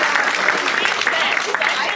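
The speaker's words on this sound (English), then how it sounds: "let's clap it up for Lisa" Steady applause from an audience at a campaign rally for a sheriff candidate, dense clapping held at an even level for the whole stretch with no pauses.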